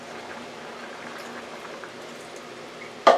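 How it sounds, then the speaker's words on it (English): Water pours into an Aroma rice multi-cooker holding chicken stew, a steady soft splashing trickle throughout, ending with a short sharp clunk. "So at this point, I'm going to add a little more water."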